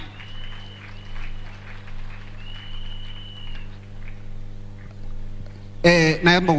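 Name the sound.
audience applauding at Hustler Fund launch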